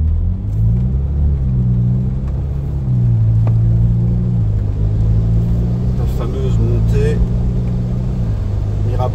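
A Ferrari F8 Spider driven on the Monaco F1 circuit gives a loud, close engine rumble with shifting revs throughout, while people talk over it.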